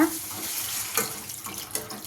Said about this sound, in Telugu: ఇప్పుడు ఇందులో ఒక గ్లాసు నీళ్ళు వేస్తున్నా